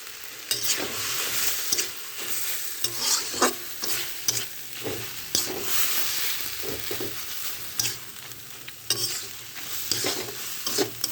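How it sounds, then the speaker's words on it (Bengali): Fourteen kinds of leafy greens fry in a pan for Kali Puja, with a continuous sizzle broken by repeated scraping stirs of a spatula at an irregular rhythm, close by and without speech. "ভাজা হয়ে গেছে এবার আমি নামিয়ে নেবো"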